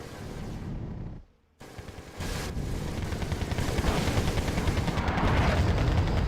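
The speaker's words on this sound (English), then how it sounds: "There's my artillery." Artillery fire in the video game Wargame Red Dragon: loud, rumbling barrages and booms roll on continuously, broken by a short near-silent gap before the heavy fire resumes.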